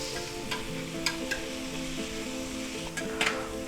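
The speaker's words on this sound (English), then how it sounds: "We just want to brown our garlic lightly and get that butter going." Garlic browns in butter in a pan for a vegetable and sausage stir fry, giving a steady close sizzle and fry with a few sharp clinks of a utensil stirring against the pan.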